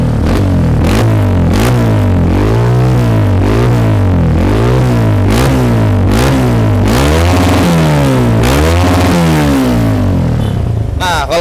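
Honda CRF 150L motorcycle with a remapped ECU revved repeatedly in short, loud blips, the engine pitch rising and falling in a steady rhythm close by, with no talk over it.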